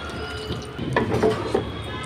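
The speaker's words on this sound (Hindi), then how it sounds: "थोड़ा सा पानी डालेंगे" Water splashes into a pan of cooking beans, potatoes and spices in a home kitchen, a short burst of pouring and spattering lasting about a second, close and moderately loud over a low background hum.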